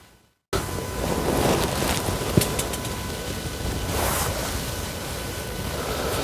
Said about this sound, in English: You know it's windy.